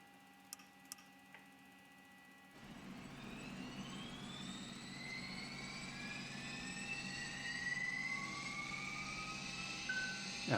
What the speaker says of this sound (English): Starting the left engine.